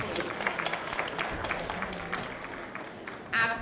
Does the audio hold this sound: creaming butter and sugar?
no